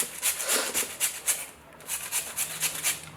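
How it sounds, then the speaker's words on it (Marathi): Peeled potato grated on a fine kitchen grater for fasting cutlets, heard as a close series of quick rhythmic rasping strokes, about a dozen, with a short pause midway and no talking. "साल काढलेला बटाटा आहे तो बारीक किसणीच्या सहाय्याने किसून घ्यायचा आहे"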